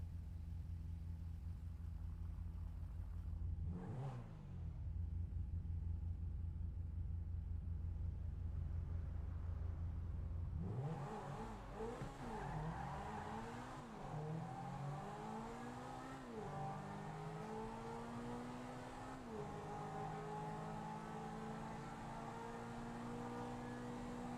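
An Ultima GTR race car on stretched tires idles with a deep, steady rumble in a video game. Partway through, it breaks into a series of rising revs and gear changes.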